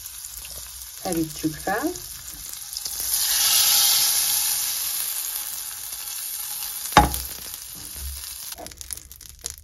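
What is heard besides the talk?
walnuts and butter sizzling in a hot frying pan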